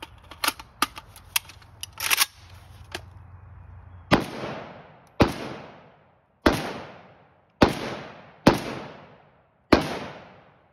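Sharp, loud gunshots from a Palmetto State Armory AK-556 rifle at an outdoor range, six evenly spaced shots each with a ringing decay, after a stretch of clicks and handling noise.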